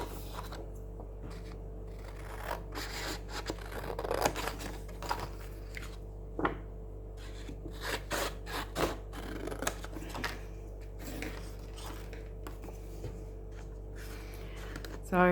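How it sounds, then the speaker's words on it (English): Scissors cut a decorative frame out of paper for a paper doll craft, making repeated soft snips and crisp paper rustles at an uneven pace, close by and fairly quiet over a low background hum. "Now I'll just go ahead and cut."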